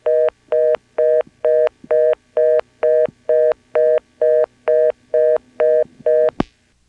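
Dialing on an NX1-E telephone exchange in Vanceboro, North Carolina, in 1977: twelve evenly spaced tone bursts ring out loud and clear in a steady rhythm, ending with a sharp click.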